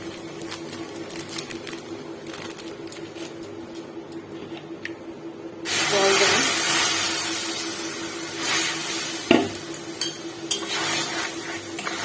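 Packaged dhoka lentil cakes dropped into hot oil in a kadai, a sudden loud sizzle bursting in midway after quieter ticking sounds, with a few utensil knocks as it continues.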